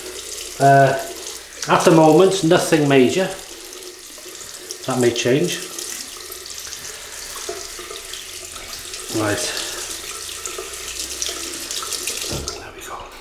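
A bathroom tap runs cold water for rinsing a Muhle R41 Twist safety razor during a wet shave, a steady close splashing flow under a man's speech, with brief clatters of the razor.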